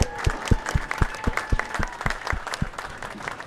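Audience applause at a Hall of Fame induction honoring Gary Carrington, a steady wash of many hands clapping with sharp individual claps standing out, fairly close and continuous throughout.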